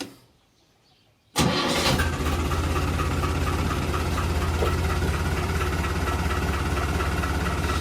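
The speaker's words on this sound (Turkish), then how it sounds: "Şimdi bir ilk marş yapalım." A New Holland 70-56 tractor engine cranks and catches after a moment of near silence, then settles into a loud, steady, rumbling idle close by.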